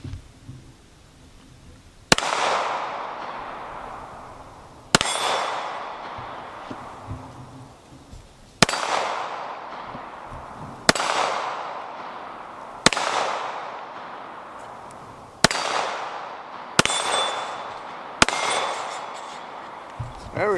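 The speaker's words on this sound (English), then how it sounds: "it shoots well enough that I got my can to roll off the table" A Beretta 1951 9mm pistol fires eight sharp, loud shots at a can, each crack spaced a couple of seconds apart and trailing off in a short outdoor echo.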